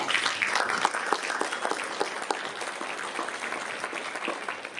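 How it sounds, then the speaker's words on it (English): Applause from the audience at a jazz breakfast concert, a crowd clapping steadily for about five seconds, moderately close and even, with a faint murmur underneath. "if you give them a round of applause"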